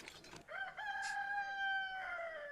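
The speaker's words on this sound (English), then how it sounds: "This is my rooster." A rooster crows once in a long, drawn-out call that rises and holds steady, clear and fairly close, with no other sounds around it.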